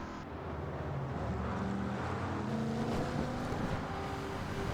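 A 1989 Corvette ZR-1 carrying an LT5 engine swap in the Gran Turismo 7 racing game, its engine droning steadily and loudly under acceleration with rising and shifting pitch, heard alone.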